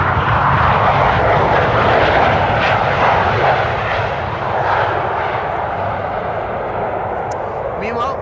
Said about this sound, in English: that was KLM using their reversers